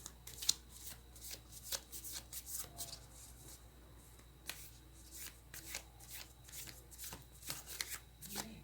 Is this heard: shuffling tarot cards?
yes